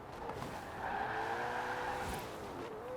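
Ferrari-engined Alfa Romeo Stelvio in Forza Horizon 4 accelerating hard, a loud, steady engine roar whose rising harmonics climb through the gears, with faint tire squeal underneath and no talk.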